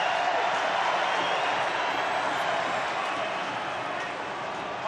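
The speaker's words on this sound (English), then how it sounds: "the crowd's getting right into this" A rugby league stadium crowd at an NRL match roars in a steady, sustained wash of cheering and noise that stays loud throughout with no break.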